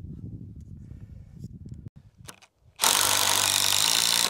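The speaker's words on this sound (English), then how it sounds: "I'm gonna finish getting screws in this" Power driver sinking screws into goat barn rafters, a ratcheting mechanical clatter early on, then a loud sustained whirring burst close by near the end.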